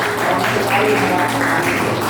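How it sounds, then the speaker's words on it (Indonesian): A school audience clapping together for a class 6 homeroom teacher, a dense steady wash of many hands applauding throughout, fairly loud and continuous. "tepuk tangan untuk wali kelas 6 ya"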